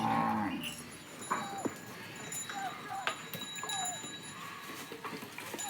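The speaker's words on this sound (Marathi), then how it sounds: "दिवस मावळे आपले जनावर आले चरून हौदवर पाणी पिले" Cattle back from grazing and drinking water at a trough low several times, the moos spread across the clip and fairly close, set against quiet farmyard background.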